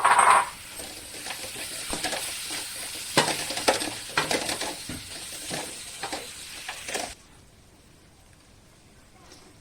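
Chopped tomatoes frying with masala in a pan for chicken gravy, a steady sizzle with stirring scrapes and clinks, loud at first and then cutting to a faint hiss near the end.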